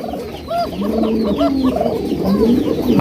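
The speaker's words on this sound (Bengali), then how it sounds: "হোয়াইট কালারের বাসিরাস কবুতর" White Basra pigeons cooing loudly at close range, overlapping throaty calls from several birds in a continuous chorus with no speech.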